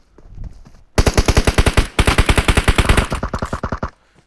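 Rapid automatic gunfire in the mobile battle royale game PUBG Mobile, two long loud bursts of evenly spaced shots followed by a shorter, slightly softer burst, with no voices over it.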